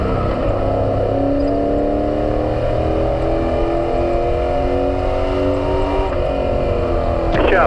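A race car engine at full throttle on an oval track, loud and sustained with rising harmonic tones, continuous throughout with a brief louder surge near the end.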